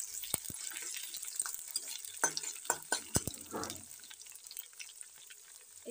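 Morola fish fry in a pan, a soft continuous sizzle broken by scattered sharp clicks and stirring knocks, with no talking.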